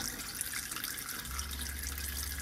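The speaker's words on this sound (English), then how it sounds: "Turn it on, and there you've got a continuous flow of water." Water from the hot tap of a caravan with a Truma combi boiler runs in a steady, continuous flow, with a low, constant rush that strengthens midway through and no talking.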